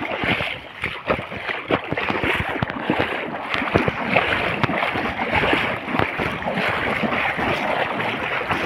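Rising floodwater rushing through a village, a loud continuous churning roar mixed with gusty wind buffeting the microphone, heard up close with no talk.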